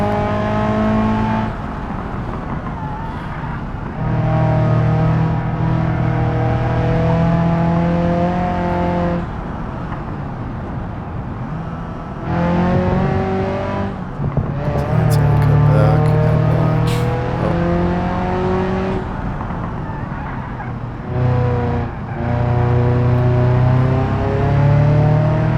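Ibishu 200BX car engine during hot laps in a video game, revving loudly and steadily through repeated accelerations and gear changes, with brief dips between pulls, close and prominent throughout.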